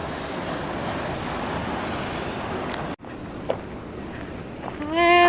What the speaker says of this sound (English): Look at the force of the water coming down there.